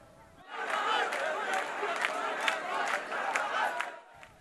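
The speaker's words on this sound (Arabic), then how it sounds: "هتافات وأهازيج المحاضرين لا تتوقف في ساحة الصدرين" Crowd of protesting lecturers chanting and shouting slogans together in an open city square in Najaf, a rhythmic collective roar with sharp accented bursts, starting abruptly and cutting off after about four seconds.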